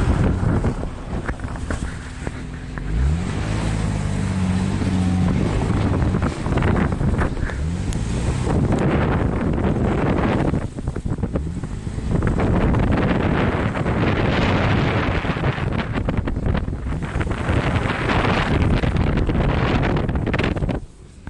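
Jeep Cherokee KJ with a 3.7 engine driving through snow in four-wheel drive, a continuous loud engine drone with wind buffeting across the microphone and brief revving rises early on, no talking.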